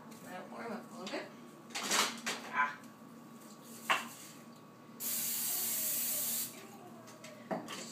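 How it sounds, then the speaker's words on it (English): Butter-flavored cooking spray hisses onto a pan warming for pancakes, one steady blast lasting about a second and a half, preceded by clattering cookware and kitchen handling. "sometimes I use the butter flavored spray just because, again, it's pancakes"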